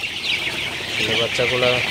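Young Sonali super hybrid chicks, about 20 days old, peep and cluck in a coop at night; a dense, close chorus of short calls, steady and moderately loud.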